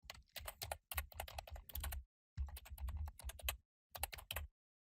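Rapid bursts of typing on a computer keyboard while renaming a furniture variant in Revit, close and crisp, with clustered keystrokes separated by short pauses.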